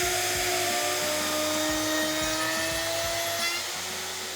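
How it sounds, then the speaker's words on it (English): A plunge router cuts a dado in wood while dust extraction runs, giving a steady, loud, high whine with a continuous roar of suction and slight rhythmic variation throughout, and no talking. "I'll plunge here, I'll run the dado all the way out, and then I'll come back and get that last little piece"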